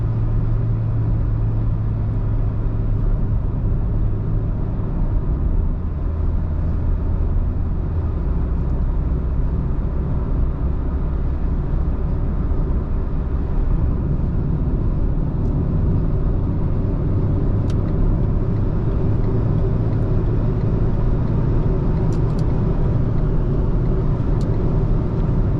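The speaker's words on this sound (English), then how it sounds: "this car actually has a dual clutch transmission" Renault Clio IV Limited with a dual clutch transmission driving on the road, heard from inside as a steady low engine and road rumble with little change, continuous and fairly loud.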